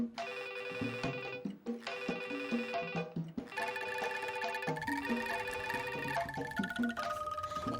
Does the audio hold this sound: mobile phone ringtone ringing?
yes